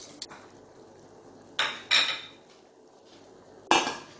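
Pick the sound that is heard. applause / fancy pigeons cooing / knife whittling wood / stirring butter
stirring butter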